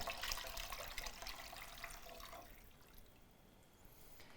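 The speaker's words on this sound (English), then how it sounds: "I have 4 cups of stock that I'm going to carefully pour into the pot" Stock splashes steadily into a pot for a couple of seconds, then the pouring tapers off into a quiet hiss.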